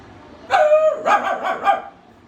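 A voice imitating a dog, giving a few short bark-like yelps in quick succession, close and fairly loud.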